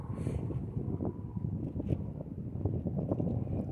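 Strong wind blowing outdoors, a continuous loud low rumble buffeting the microphone with gusty swells throughout, no voices heard.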